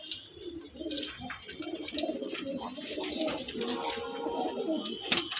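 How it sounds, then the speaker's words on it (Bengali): Many pigeons coo and murmur together at a pigeon sale, a dense, continuous chorus of soft throaty calls close by, with faint background voices. "এখানেও প্রচুর পায়রা আছে।"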